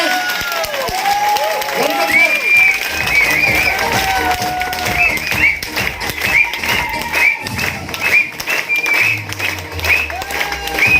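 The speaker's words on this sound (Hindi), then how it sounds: "खड़े होकर जोरदार ताली के बीच में" An audience at a talk applauds loudly while standing, with steady dense clapping and some cheering, and a voice carries over the clapping.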